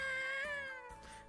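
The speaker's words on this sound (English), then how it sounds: "After that one cry, the cat gets up and slowly moves closer." A cat in the video game ToHeart2 gives a single drawn-out meow, a clear tonal cry that bends upward, then fades out, heard alone at close range.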